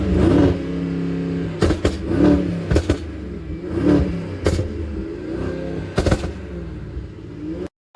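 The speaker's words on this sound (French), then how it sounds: "Je vais faire ronronner le moteur toute la nuit, les gars. Je vais passer sur le Prado en Brabus." A Brabus car engine revs hard in repeated sharp blips, each burst rising and dropping with crackling pops in between, loud and close with no talking.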